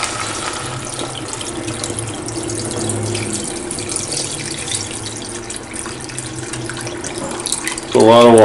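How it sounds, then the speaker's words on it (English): Water runs steadily from a kitchen tap into a cooking pot for a Korean seaweed soup, a continuous close splashing hiss with faint background sounds, ending in a louder burst near the end. "Put some water."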